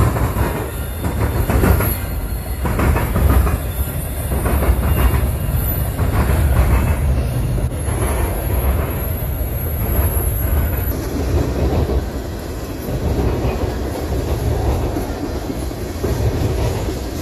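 A CSX freight train rumbles steadily past nearby, wheels clattering over the rails with a continuous heavy roar and a faint high squeal.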